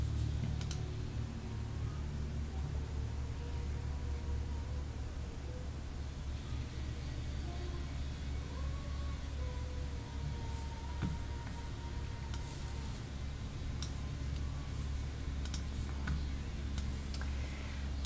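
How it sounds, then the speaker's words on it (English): Steady quiet tapping of calculator keys over a constant low background hum, with scattered sharper clicks and no voices. "So we're going to type this into the calculator"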